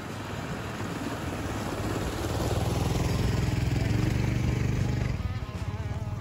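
A KLR 650 motorcycle rides through a water crossing on a backcountry route to natural hot springs in British Columbia, its engine rising to a loud, close, throbbing drone and then easing off.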